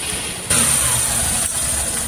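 A Honda SP 125 motorcycle engine, just repaired, starts abruptly and settles into a loud, steady idle close by, with no talking over it.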